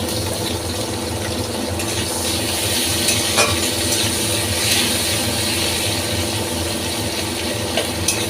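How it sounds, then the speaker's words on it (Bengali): Chopped tomato and onion fry in oil left over from frying fish, making a continuous crackling sizzle with occasional spatula scrapes and clicks close by, and no voices. "ওই মাছ ভাজার তেলের মধ্যে এই টমেটো আর পেঁয়াজটা আমি দিয়ে দিলাম"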